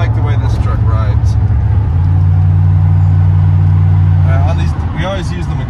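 From the cab of a lowered 1989 Chevrolet C1500 shortbed with a 5.7 V8, a steady low engine drone rises in pitch partway through as the truck pulls along, with someone talking over the road noise.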